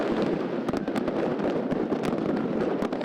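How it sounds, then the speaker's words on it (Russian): New Year's night fireworks and small firecrackers go off around Yakutsk, a rapid scatter of sharp cracks and pops at moderate distance over a constant background rumble. "Салюты, вернее, здесь ставят. Это мелкие пускают."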